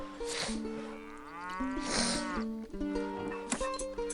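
Cattle moo repeatedly in the Stronghold video game, with long, low calls overlapping one another above a steady musical game soundtrack, moderately loud.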